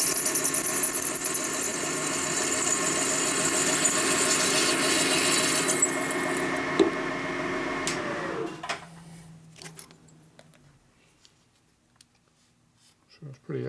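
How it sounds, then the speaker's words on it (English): A drill at low RPM grinds and squeals steadily as it bites into a hardened steel exhaust stud on a Harley-Davidson, then winds down around the eight-second mark, leaving near quiet with a few small clicks. "So we're cutting through some hard ass metal."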